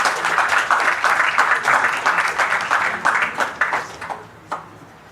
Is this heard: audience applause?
yes